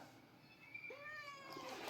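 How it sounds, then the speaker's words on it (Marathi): A pet cat gives one drawn-out meow that rises and falls, close and fairly clear over soft room hiss, with no talking. "म्याऊ काय म्याऊ?"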